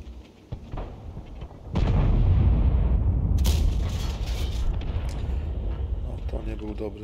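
A tank cannon fires in World of Tanks with a heavy, loud boom that rolls into a sustained rumbling aftermath, preceded by quieter engine and battle ambience; someone talks over it.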